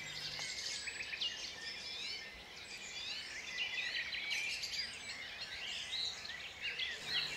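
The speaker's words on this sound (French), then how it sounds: "Moi je ne suis pas un moineau domestique, mais un accenteur mouchet." A dunnock sings in a garden, a quick, high, warbling stream of notes that runs almost continuously, faint and slightly distant, with no voices.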